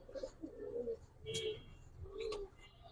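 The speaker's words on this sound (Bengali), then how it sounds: "4টা কবুতর দেখেন কি সুন্দর লাগে" Pigeons coo softly in a small group kept for sale, a few low murmuring calls rising and falling over roughly three seconds with short pauses between them.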